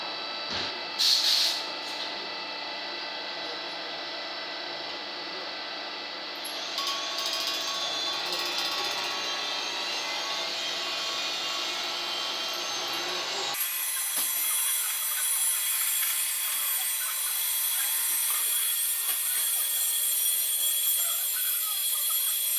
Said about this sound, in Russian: Дрель, патрон, сверло, масло и приступаю к сверлению.